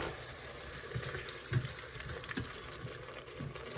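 Kitchen tap runs with a soft, steady rush of water during jambalaya cooking, faint and fairly distant with a few small clinks.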